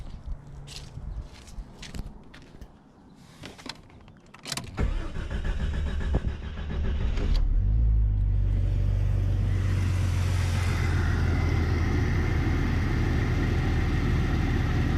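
A rebuilt 4.0L engine in a 2000 Jeep, preceded by a few clicks and handling noises, cranks and catches, then settles into a loud, steady idle rumble that runs to the end.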